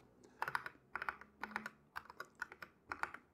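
Typing on a mechanical keyboard with brown switches, heard close and crisp as bursts of clicky keystrokes grouped in quick runs with short pauses between them, alone and without any voice.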